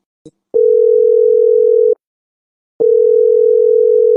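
Telephone dial tone heard while placing a call: a loud, steady single-pitch tone sounds for about a second and a half, breaks off after a click, then resumes, with no one talking.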